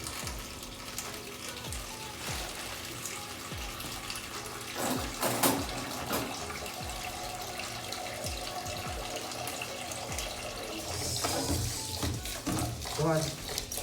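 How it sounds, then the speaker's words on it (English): Rice is washed under running tap water in a Jamaican home kitchen: a continuous faint trickle of water with scattered clinks and a louder splashing burst near the end, under quiet background sounds. "So get the rice washed proper way."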